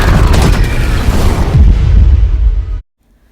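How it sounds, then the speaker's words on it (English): A massive, booming explosion from a Star Wars Clone Wars trailer, with a deep, rumbling blast that roars loudly for nearly three seconds before cutting off abruptly into silence. "all of a sudden, an explosion comes and blows up all of the helmets."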